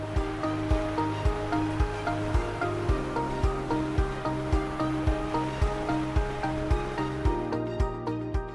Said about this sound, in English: 6-foot waves crash onto velvet soft sand